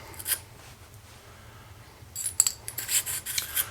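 A cleaning brush on a cable is pulled through a shotgun choke tube, giving faint scratchy rasping strokes, with a short one early on and a louder run of scraping near the end.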